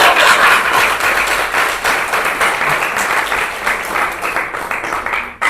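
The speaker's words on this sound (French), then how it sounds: "Applaudissez-vous très fort même." A large audience at a PPA-CI women's political gathering in Côte d'Ivoire bursts into loud, dense applause that is sustained and crowded close by, then fades slightly before cutting off at the end.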